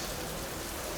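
Heavy British summer rain falls steadily as a dense, constant hiss with no pauses, close by and moderately loud, with no voices present.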